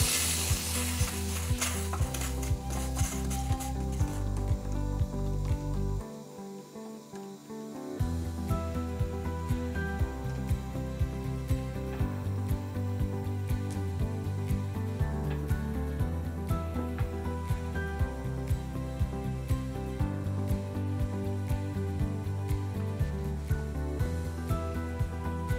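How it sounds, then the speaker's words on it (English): Air hisses steadily from the opened moisture relief valve of an Air Venturi Nomad II air rifle compressor, a broad, fairly loud rush strongest at the start and continuing beneath rhythmic background music. "Then open the moisture relief valve by turning it counterclockwise"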